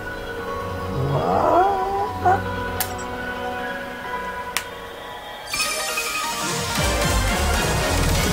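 A cat-like meow from the video game Blue Reflection rises and wavers early on, followed by sharp game chimes and a swelling burst of synthetic music toward the end.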